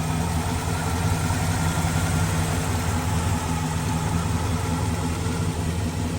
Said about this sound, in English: that is a true 396 high performance factory built motor, and it runs good